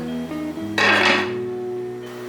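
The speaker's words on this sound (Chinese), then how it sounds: "这时候盖上锅盖，让它焖。" A pot lid set down onto a pot of braising tofu and eggplant, one short metallic clink and rattle over a steady kitchen hum.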